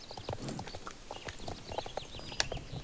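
Hoofbeats of a horse being ridden around flags in the video game Star Stable Online, a steady light clip-clop running through the whole stretch, with faint chirpy game sounds layered above.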